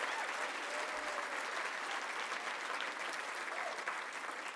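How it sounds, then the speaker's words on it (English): A hall full of gala guests breaks into sustained, dense applause, a steady wash of many hands clapping at once, loud and continuous throughout with no one speaking over it. "that deserves a good round of applause"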